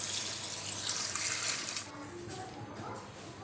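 Water poured from a container into a cooking pot for chicken vegetable rice pulao, a steady close splashing gush that drops off partway through and leaves quieter trickling and faint kitchen noise.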